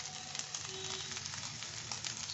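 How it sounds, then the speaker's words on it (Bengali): Leftover cooked rice frying in a pan with salt being mixed in, giving a faint, steady sizzle with soft crackles throughout and no voices. "আমি নুনটা দিয়ে দিচ্ছি"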